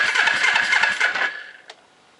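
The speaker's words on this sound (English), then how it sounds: "So you got the old Suzuki Clipper going, huh?" An old Suzuki Clipper engine with dual carburetors cranking and sputtering, a loud, close, rhythmic churning that runs about a second and a half, then drops off, followed by a brief click.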